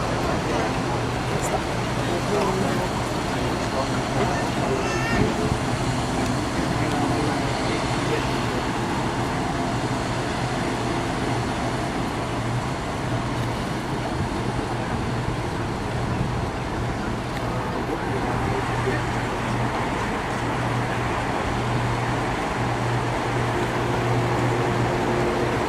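Steady vehicle rumble and road noise from a moving theme-park tram at Disney's Hollywood Studios in Orlando throughout, with a low engine hum and faint background chatter.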